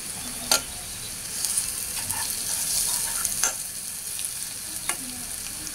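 Whole spices and bay leaves frying in oil in a pan for a beef liver bhuna, a steady close sizzle with a few sharp clicks of a spoon stirring against the pan.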